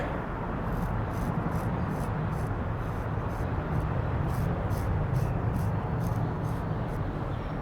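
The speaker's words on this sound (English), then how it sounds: "let's go ahead and strop it, and that'll be the last one" A knife is stropped on a Work Sharp Ken Onion powered sharpener, giving a steady close motor whir and belt hiss with faint regular rubbing strokes throughout, no talking.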